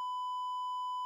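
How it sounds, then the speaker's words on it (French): A single steady censor beep, a pure electronic tone lasting about a second, added in editing with nothing else around it. "faudra mettre le bip, tu sais, comme si tu faisais une insulte"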